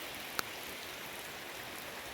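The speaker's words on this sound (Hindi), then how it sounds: "पर फिर भी बारिश हो रही है।" Steady rain falling in a forest in Nainital district, a dense, even patter of drops on leaves with one sharper drip standing out near the start, no voices.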